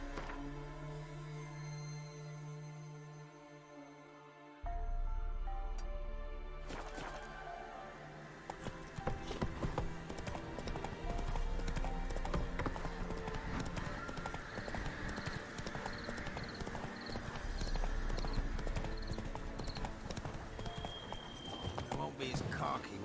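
Horse hooves clop and gallop steadily in The Witcher 3 video game, a continuous rhythmic beat under game music, with a whinny, other game sounds and a brief spoken line.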